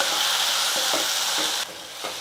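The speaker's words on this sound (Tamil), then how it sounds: "இதெல்லாம் சேர்த்து 1 நிமிஷத்துக்கு வந்து இந்த எண்ணெயிலே மசாலாலாம் நல்லா வதங்கட்டும்." Masala with chilli powder frying in oil for a manathakkali kuzhambu, a close, steady sizzle with soft stirring scrapes that briefly drops and resumes near the end.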